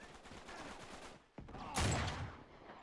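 T-bolt rifle fire in the multiplayer shooter Uncharted 3, a crack of a shot followed by a louder blast, with quieter battle noise before and after.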